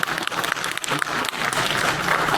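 Audience applause at a Kobe community event, with dense steady clapping from a crowd filling the whole stretch at even loudness.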